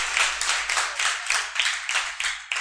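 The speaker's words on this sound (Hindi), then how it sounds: "तालियां एक बार इनके लिए जोरदार" A classroom gives a student a round of applause, a brisk burst of many hands clapping in a rapid, steady rhythm, close and fairly loud.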